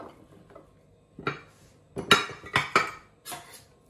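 A spoon clinks and scrapes in a bowl while rice salad with corn and red beans is mixed, a few separate close scraping strokes with short gaps, the last ones loudest.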